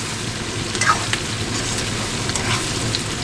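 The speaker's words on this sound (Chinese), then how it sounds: "姜末跟葱末一定要把它煸的入了味以后，小火煸都行，不用大火" Pork belly stir-fried with minced ginger and scallion sizzles steadily in a wok over low heat, a continuous close hiss with a few faint clinks of the spatula and no voices.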